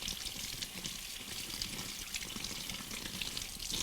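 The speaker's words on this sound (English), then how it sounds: "what we do with the coconut is that we wash it" A mature coconut is rinsed under steadily running tap water, producing a continuous close, hissing splash with slight fluctuations throughout.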